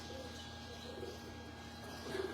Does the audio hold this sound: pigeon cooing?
yes